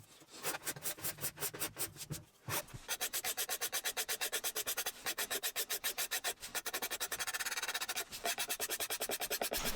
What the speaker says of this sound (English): Next I worked on scraping the sides.